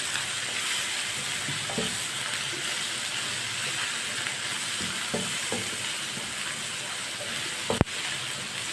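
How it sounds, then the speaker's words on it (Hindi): Spices, including red chili and turmeric, fry in a pan for an eggplant dish. A soft, steady sizzle carries on under occasional clinks and stirs, and a sharp click lands near the end. "मसालों को 1 मिनट के लिए पका लेंगे।"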